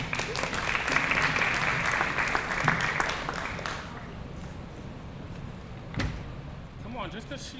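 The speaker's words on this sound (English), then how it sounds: "I enjoy seeing you guys clap a little harder" An audience applauding at a dual enrollment graduation celebration, with steady dense clapping that fades after a few seconds into a quieter room with a thump, while someone talks throughout.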